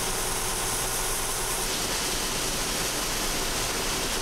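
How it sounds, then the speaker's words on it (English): Combine unloading grain into a semi truck: a loud, dense rushing roar of pouring grain over a running engine, steady and unbroken from start to finish. "I'm dumping off the rest of the grain onto the semi."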